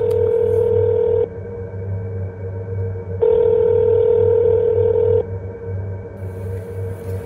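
Telephone ringback-style tones: a steady, loud electronic tone pattern switching on and off in long blocks, alone without voices, used as a phone-call effect in a spoken horror story.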